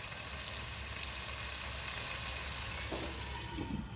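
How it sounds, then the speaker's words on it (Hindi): Tomatoes frying in a pan for a palak chicken curry, giving a steady, even sizzle that stays close and continuous throughout, with a faint clink or stir near the end. "इसको टमाटर के साथ भून लें"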